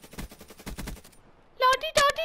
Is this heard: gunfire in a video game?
yes